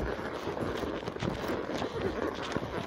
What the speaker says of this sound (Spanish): Pero si se fijan, mira su ritmo, un caballo muy posero.